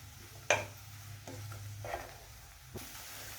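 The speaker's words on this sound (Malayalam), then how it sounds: "ഇനി നമ്മൾ അരിഞ്ഞു വെച്ചിരിക്കുന്ന വെണ്ടയ്ക്ക ഇട്ട് കൊടുക്കാം. വെണ്ടയ്ക്ക നല്ലോണം വഴറ്റുക." Chopped okra for a Kerala-style thoran is stirred in a pan with a spatula, giving a few distinct scrapes and clinks over a faint sizzle, quiet and close.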